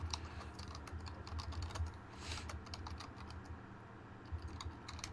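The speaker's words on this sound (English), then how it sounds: "Oh, is that my keyboard? Oh my goodness, it's loud." A loud computer keyboard sitting up on a desk clatters with rapid, steady keystrokes throughout, close and continuous, with no voices.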